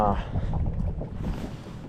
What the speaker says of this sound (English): it's gonna be hard fighting this wind now